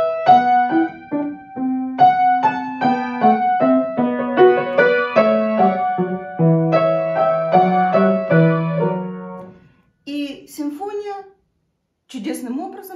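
A piano recording of Bach: a clear, detached polyphonic line of crisp individual notes in steady rhythm, played alone, followed by a brief pause and a few scattered sounds at the end.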